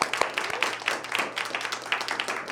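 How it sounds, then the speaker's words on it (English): A live audience at a charity poetry slam claps briefly on request, a dense, fairly close patter of hands with a few louder individual claps. "So everybody clap it up real quick."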